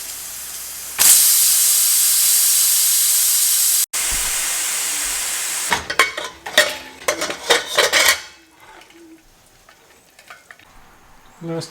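A pressure cooker vents steam while cooking beef vindaloo: a loud, sustained hiss of several seconds, then clattering and scraping of pots and cutlery before a quieter stretch.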